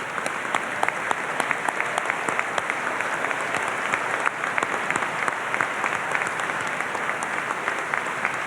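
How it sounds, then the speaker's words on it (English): Steady applause from graduating seniors clapping for their parents at a high school graduation ceremony, a dense, even patter of many hands in a large venue at moderate volume. "Seniors, clap for your parents."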